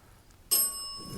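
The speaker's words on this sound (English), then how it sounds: "and now the bell" A bell rings sharply and suddenly partway through in a quiet hallway of a reputedly haunted manor, leaving a sustained ringing tone that lingers to the end with no talk.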